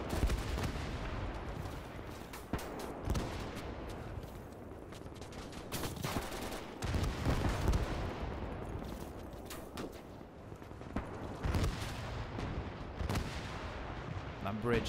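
Rear artillery guns firing in a Gates of Hell battle, a continuous barrage of deep booms and crackling gunfire layered over one another, heavy and dense throughout with occasional louder bursts, with speech at times.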